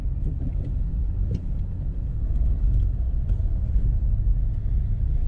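Volkswagen Up TSI 2018 car under hard acceleration, heard as a steady, loud low engine rumble from inside or close by, holding constant throughout with no talking.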